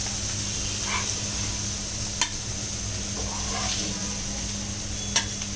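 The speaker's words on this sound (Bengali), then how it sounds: "আমার চিংড়ি মাছ ভাজা হয়ে গিয়েছে" Prawns frying in oil in a pan, a steady low sizzle under a constant background hum, with a couple of sharp clicks and soft stirring scrapes, close and fairly quiet.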